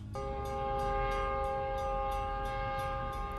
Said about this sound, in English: oh no, and a train!